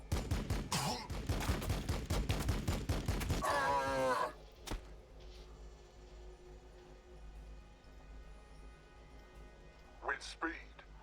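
Rapid bursts of gunfire from the video game Battlesector rattle loudly for about four seconds, then give way to quieter background hum with one brief distant burst later, with groaning unit voices mixed in.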